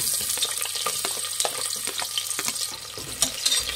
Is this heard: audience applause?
no